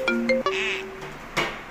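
A mobile phone ringtone plays alone, a short melodic sequence of bright electronic tones with a rising chime near the end, loud and close.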